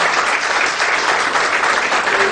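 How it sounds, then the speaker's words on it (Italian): Applause at an Italian local election list presentation for Polis in Roghudi, a loud, dense burst of clapping from an indoor audience that carries steadily through without pause. "ti ringrazio appunto per un applauso"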